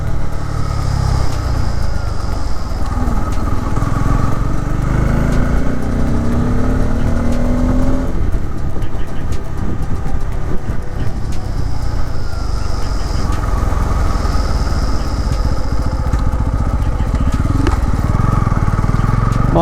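A Bajaj Pulsar N250 motorcycle on the move: a continuous close engine drone mixed with steady wind rush, swelling briefly around the middle and again near the end, with no clear talk.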